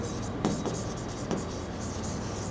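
Chalk or marker strokes scratch steadily across a board during a physics lecture on electric fields from charge distributions, a continuous close rubbing hiss with a couple of brief accented strokes and no talking.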